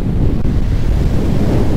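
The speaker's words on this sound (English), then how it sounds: "this wind is freaking whipping" Strong wind gusts across an open beach during surf fishing at Orange Beach, Alabama, with loud continuous low rumbling buffeting on the microphone and surf washing beneath it, and no voices.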